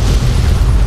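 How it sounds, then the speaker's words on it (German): A car explodes in the video game Fallout 3, a short, loud, deep boom with a rumbling low burst and no voice over it. "Wollen wir das Auto zum Explodieren bringen?"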